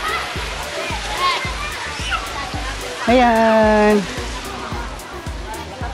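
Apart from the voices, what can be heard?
flowing spring water in resort fish ponds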